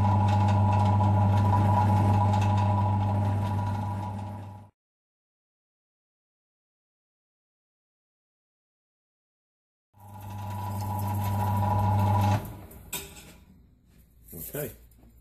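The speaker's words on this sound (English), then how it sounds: "I'm going to use a 12mm mandrel in the lathe" A metal lathe machines a billet piece for a quick-release steering wheel fitting, giving off a steady droning motor hum. It stops completely for several seconds, restarts, then gives way to clunks and handling noise.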